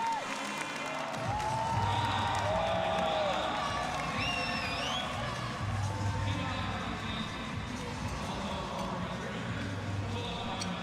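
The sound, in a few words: crowd of friends and family cheering a powerlifting performance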